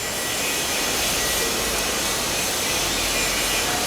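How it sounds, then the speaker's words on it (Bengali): A hydraulic deep tube well drilling and piling machine runs with a loud, dense, unbroken roar, close by and without talk. "চলুন দেখা যাক আমাদের মেশিনের কিভাবে চলে"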